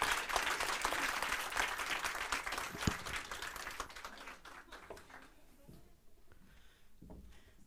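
Audience applause closes a panel on women in cybersecurity, a dense wash of many hands clapping that stays loud for several seconds, then thins and fades toward the end.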